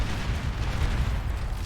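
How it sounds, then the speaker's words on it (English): Explosion rumble from the real-time strategy game Beyond All Reason, likely bombs or mines going off in a pro 2v2 match, a dense continuous low boom lasting nearly two seconds with no voice over it. "Those probably bombs some mines there, so that goes to some explosion."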